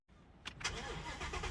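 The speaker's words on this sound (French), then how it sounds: "S'il y a toujours des sceptiques, je vais démarrer la voiture." A supercharged V8 Mustang fires up from silence, the starter catching in two sharp bursts before the engine settles into a loud, steady rumbling idle close by.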